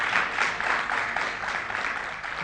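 A studio audience at an Azerbaijani intellectual quiz show applauds a winner, a dense, steady wash of clapping that fills the whole clip at moderate loudness.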